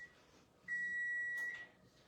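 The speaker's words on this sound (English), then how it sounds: "Timer." A kitchen timer gives one steady, high-pitched electronic beep lasting just under a second, clear but fairly soft in an otherwise quiet kitchen.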